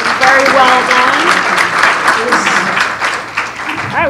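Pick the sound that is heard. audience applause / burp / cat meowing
audience applause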